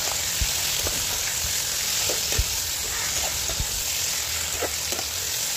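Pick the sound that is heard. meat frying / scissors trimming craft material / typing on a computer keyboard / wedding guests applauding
meat frying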